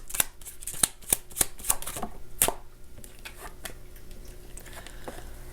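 Tarot cards being shuffled for a reading, a run of crisp riffling snaps and slaps in quick bursts, then softer sliding and tapping as the deck settles, close and fairly quiet.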